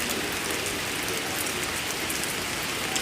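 Nighttime rain in Cikarang pours steadily, a full wideband hiss of drops on surfaces, constant and near, with no speech over it.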